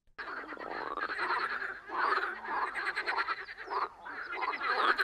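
A frog croaks in a dense, continuous run of raspy, rhythmic calls lasting about five seconds, fairly close and loud, with no talking over it.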